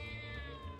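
In the roguelike video game Mewgenics a cat gives one short, drawn-out meow that stays clear and close and fills the brief moment.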